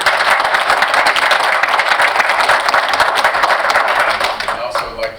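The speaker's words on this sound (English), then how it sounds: "Let's give her a great big round of applause." Sustained, loud crowd applause at a village board meeting in Lynwood, Illinois, welcoming the village's first female mayor; dense, steady clapping that continues for several seconds before tapering off near the end.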